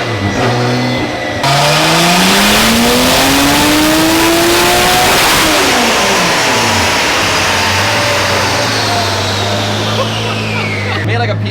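Built Toyota 2JZ engine on a dyno with boost turned up revs hard, a rising loud roar that climbs through gears, then drops and settles, with broadband turbo rush; voices may be faintly present underneath.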